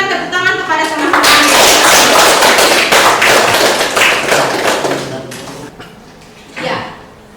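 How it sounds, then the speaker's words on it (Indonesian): Classmates in a school classroom break into applause, a dense burst of clapping from many hands lasting several seconds before tapering off, with a few scattered claps near the end. "Coba kita berikan tepuk tangan kepada teman-teman."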